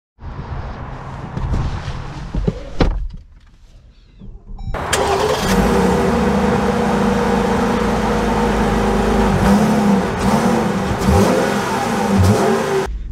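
A 2024 Jeep Grand Cherokee Altitude X starts up and drives, its engine rising to a steady loud hum with low road rumble after a brief quieter stretch of fumbling and clicks, no talking.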